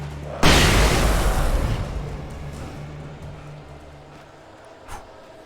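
A flashbang grenade goes off in Alan Wake with one sudden loud blast, followed by a long rumbling decay that fades over several seconds, then a faint small pop.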